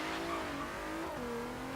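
Bentley Continental GT with twin turbochargers launching hard from a standstill in the Forza Horizon 3 racing game, a loud steady engine roar rising in pitch and then dipping briefly at a gear change, with no talk.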